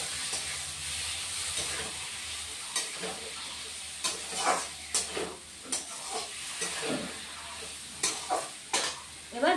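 Fish curry in a pan sizzling and bubbling after tomato and a little water go in, a steady frying hiss close by with intermittent stirring scrapes.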